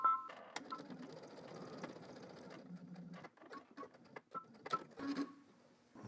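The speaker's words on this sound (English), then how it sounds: "now I'm just going to stitch a 1/4 inch away from the folded edge" Sewing machine running a long basting stitch a quarter inch from the folded edge of polo shirt fabric, a steady mechanical whir with short bursts and brief pauses, fairly quiet and close.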